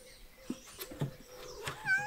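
A young tomcat stuck up high after climbing meows several times, faint and fairly close, with short calls spread across a quiet indoor background.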